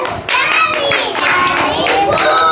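Kindergarten children clap their hands in rhythm while chanting together in sing-song voices. The clapping and chanting are loud and close.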